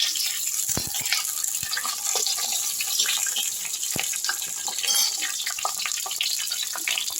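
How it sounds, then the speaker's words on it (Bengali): Sliced pointed gourd frying in hot oil in a home kitchen, a dense continuous sizzle and crackle, close and steady, with a few sharper pops and no talking. "তারপরে আমি কেটে রাখা পটলগুলো এর মধ্যে দিয়ে দিচ্ছি।"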